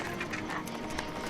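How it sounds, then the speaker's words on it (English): Horse hooves clip-clopping in a steady, moderately quick rhythm at mid distance on a country road, the muffled beats blending into a constant background rumble with no talk. "look! Horsey!"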